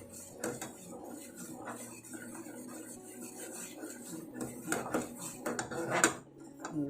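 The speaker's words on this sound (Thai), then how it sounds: "เราจะกวนจนน้ำเหนียวได้ที่นะคะ เราจะกวนไปหยดหยอดไปเรื่อยๆ" Mung bean pudding (tao suan) is stirred in a pot, giving scattered scraping and clinking of a utensil against metal, moderately close and irregular, with faint background rustle.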